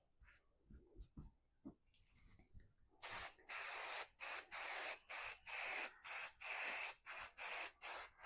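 Basting adhesive sprayed onto a quilt in a run of short, loud hissing bursts in quick rhythmic succession, after a few quieter handling sounds at the start.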